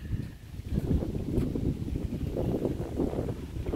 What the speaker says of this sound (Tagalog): Malakas ang hangin.